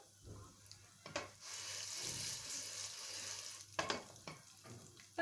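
Popcorn kernels sizzle and crackle in a pot with a few sharp pops starting to break through, close and steady, no voices.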